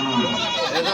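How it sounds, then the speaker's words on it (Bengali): Goats bleating at a rural livestock market, one close, loud bleat lasting the full second, mixed with market voices. "দেখেন দুইটা ছাগল আছে, লাল রঙের ছাগল।"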